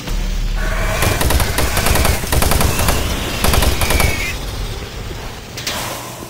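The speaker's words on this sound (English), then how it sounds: "Chain gun?" A chain gun firing in Doom 3 in co-op play, a loud sustained rapid burst of shots running for several seconds before tapering off, with little talk.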